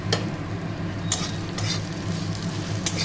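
Spices with ground cumin and a little sugar sizzle steadily in a pan for a Malabar spinach dish, with scraping stirs at intervals cutting through the frying hiss.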